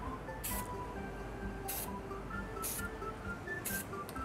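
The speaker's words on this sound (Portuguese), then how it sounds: "E aí agora é o spray" A can of matte white spray paint is sprayed onto an art piece made with metal nails in four short, separate hissing bursts, fairly faint against a quiet room.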